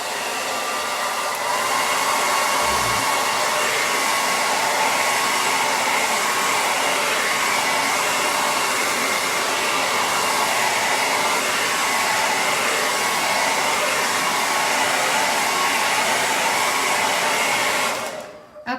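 A hair dryer runs steadily and loudly for nearly the whole stretch, blowing on fresh paint on a chalkboard bee sign, then cuts off abruptly at the end.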